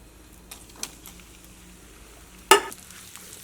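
Egg white frying in hot oil, a faint low sizzle broken by a few light stirring scrapes and one sharp clatter about two-thirds through; no talking.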